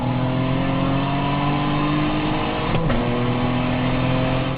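A naturally aspirated 3.5-litre VQ35DE V6 in a Nissan 350Z runs steadily and loud throughout, with a brief dip in pitch partway through before settling back to a constant drone.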